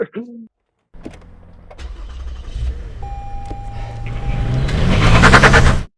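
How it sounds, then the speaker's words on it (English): A car starts with a push button in a short film: a brief click, then an engine turning over and swelling into a loud, rising rev. "he has to press the button to turn on the car"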